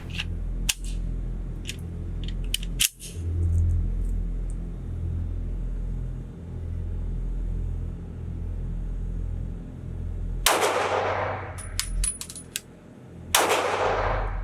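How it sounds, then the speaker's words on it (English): Shots from a Lone Wolf LTD19 pistol, a Glock 19 clone, ring out at an outdoor range: a few sharp reports early, then two loud close blasts later, over a low rumbling background. "So I'm going to give her another shot and another magazine."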